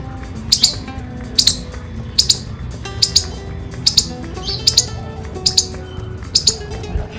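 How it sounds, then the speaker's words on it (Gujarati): A squirrel chirps in the morning, sharp high calls coming in short double bursts at roughly regular intervals, fairly close, over a low background hum. "ખિસકોલી બોલે છે."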